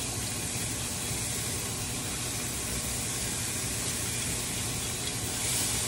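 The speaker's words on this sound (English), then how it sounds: "We just saute them for a little bit." Onions, peppers and thyme sautéing in a skillet for honey jerk salmon pasta, a loud, continuous, even hiss of sizzling that holds steady from start to finish, with no voices.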